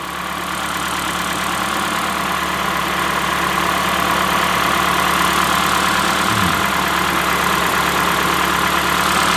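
A 2011 Ford Fiesta engine idles steadily and loudly up close, a continuous even drone with no speech, near an exhaust manifold during catalytic converter work.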